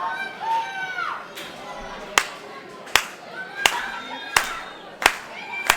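Wrestling crowd at a CCW Clash 32 indie show clapping in a steady rhythm, about one sharp clap every 0.7 seconds, with hollering voices and chatter underneath.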